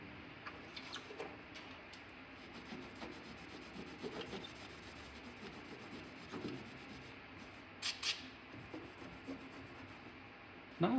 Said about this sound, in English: just cleaning and scrubbing